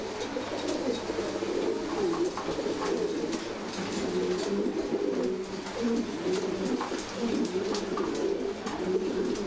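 Pigeons cooing close by in a loft, a continuous overlapping chorus of low throaty coos from several birds, steady throughout with no talk.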